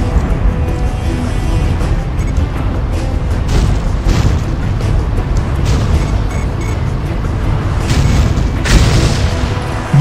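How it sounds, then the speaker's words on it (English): A missile explodes in the Iron Man PS2 video game. The blast is a loud, dense rumble that runs for about ten seconds, with repeated booms and a sharper burst near the end. "Rhodey, I'll take out the missiles"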